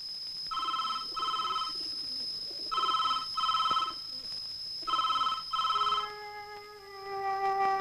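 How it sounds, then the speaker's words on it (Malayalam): A telephone rings in a movie scene, giving three pairs of bright electronic double trills with short pauses between them, loud and close, with a low hum underneath and no talking. "സാർ, ഫോൺ വന്നിട്ടുണ്ട്."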